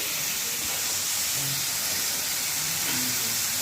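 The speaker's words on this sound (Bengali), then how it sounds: "মশলাটা একটু কষবে" Spice paste sizzles and fries in a pan as a steady, even hiss, close and moderately loud, with no talking over it.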